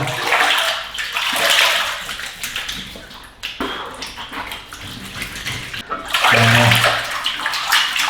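Running water rinses a face during a lukewarm-water facial wash in a Korean skincare routine, a steady broadband splash and trickle that swells louder near the start and end with short quieter gaps between.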